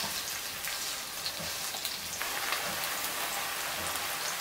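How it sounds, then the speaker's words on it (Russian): A steady, gentle sizzle of onion and garlic frying in a pan, continuous and even with faint crackles, no talking. "Помешивая, жарим все это до тех пор, пока лук не начнет становиться полупрозрачным"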